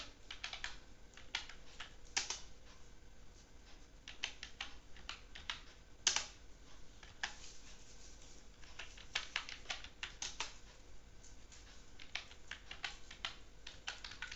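Fingers typing on a computer keyboard in short bursts of quick, light clicking keystrokes with brief pauses between, close and fairly quiet, no voices.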